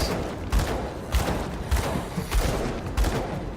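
Enemy gunfire in the action RPG Grim Dawn comes as a dense, steady volley of muffled, thumping shots, repeating about every half second at a fairly loud level.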